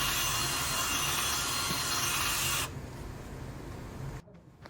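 A drill-driven sanding pad with 400-grit sandpaper buzzes and rasps steadily against a car headlight, then drops to a quieter hum before cutting off near the end.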